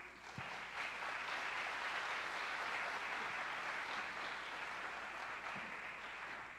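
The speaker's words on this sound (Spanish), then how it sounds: "Por favor, un aplauso." Sustained audience applause in a congress hall, a steady even wash of many hands clapping throughout, fairly quiet and distant, with no talk over it.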